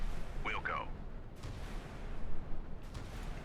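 Missiles launch one after another in the naval warfare game Sea Power, decoy Tomahawks fired from a battery, with booming whooshing bursts rising over a steady rumble.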